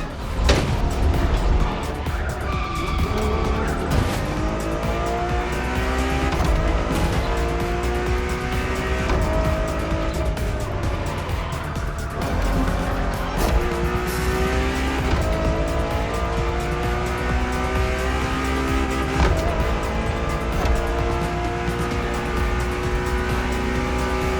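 A Ferrari road-legal Formula One-style supercar with Pininfarina design, driven in the racing game The Crew Motorfest: a loud, continuous engine roar climbing through repeated rev sweeps and gear changes, with occasional tire squeal.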